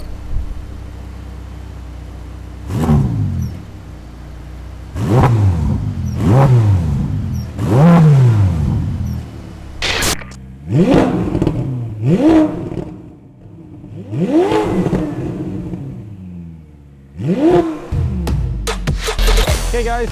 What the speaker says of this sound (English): give you a sound check on what the exhaust sounds like